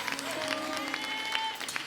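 Short burst of congregation applause during a Sunday church service, many hands clapping together in a reverberant hall, steady and fairly loud throughout.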